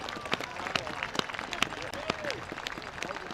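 Crowd applauding veterans and active military members at a high school district playoff football game, a steady wash of clapping with scattered sharper claps and faint voices mixed in, sustained throughout.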